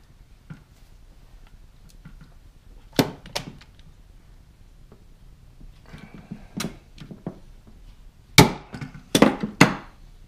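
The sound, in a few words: pop rivets being set on a power antenna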